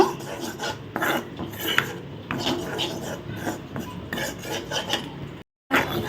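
Wheat flour roasting in a pan on low heat while a utensil stirs it, giving a close, repeated scraping and rasping against the metal, with a brief silent break near the end.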